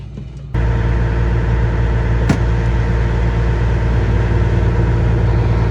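A Kenworth T800 truck with a small sleeper sits idling, a steady low diesel drone holding at an even level after a brief quieter start, with one short sharp click partway through.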